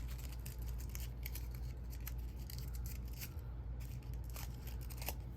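Scissors snip and trim paper for a paper flower cloche craft, giving faint, scattered crisp clicks and rustles over a steady low hum.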